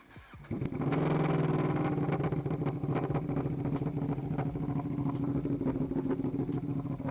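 A Ducati Panigale V2 motorcycle fires up from a warm start and settles into a loud, steady, lumpy idle that continues alone.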